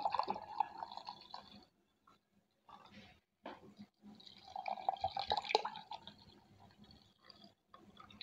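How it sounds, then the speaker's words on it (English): Cold water from the fridge is poured into a container for homemade soda, a faint trickling and dripping stream with short pauses, quiet and close. "After adding water,"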